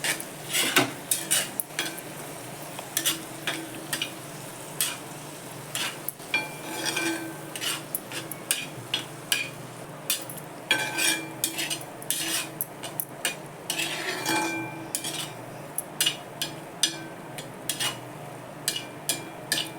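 Anda ghotala, a Marathi egg dish, sautéed in a pan on a gas stove: a utensil repeatedly scrapes and clinks against the metal in irregular bursts over a soft background sizzle, with no talking.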